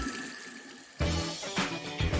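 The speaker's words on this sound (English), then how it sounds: "open the taps and let some lukewarm water run for a minute or so" Lukewarm tap water runs from an open faucet into a sink, starting abruptly with a close, steady rushing splash that swells in a couple of surges.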